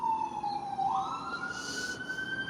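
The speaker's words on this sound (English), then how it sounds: "Fire truck sirens." A fire truck siren wails nearby, its tone sweeping upward in a continuous rising whine over faint background noise, with no voices.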